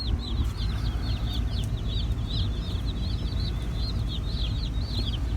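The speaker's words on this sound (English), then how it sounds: "these chicks are making a lot of noise." Baby meat-bird chicks in a shipping box peep constantly, a dense chorus of high, rapid chirps over a steady low rumble of a moving vehicle.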